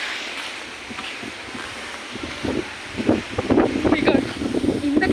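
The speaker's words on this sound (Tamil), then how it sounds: "உங்களுக்கு காத்து சவுண்ட் கேக்குதா guys?" Strong outdoor wind buffets the microphone during an evening walk in the rain, a steady rushing roar that builds and gusts harder toward the end; no clear speech, though the noise is dense throughout.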